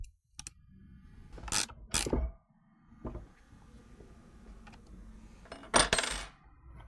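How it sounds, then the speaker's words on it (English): A bolt and nut are tightened on a Jeep Cherokee 3.2L cold air intake heat shield, with sharp metallic ratchet clicks and clinks of hardware in several short bursts between quiet pauses. "we'll go ahead and tighten this down"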